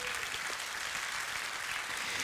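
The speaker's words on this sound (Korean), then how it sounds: "박수로 하나님 앞에 영광을 돌려드립니다." A church congregation claps together during a Sunday worship service, a dense, even wash of applause that holds steady and fairly distant for a couple of seconds.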